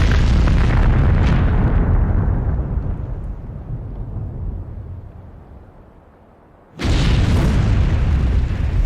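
An ammonium nitrate blast roars out as a massive, sustained boom that slowly fades over several seconds, then a second huge explosion bursts in abruptly, loud and overwhelming, with no voices.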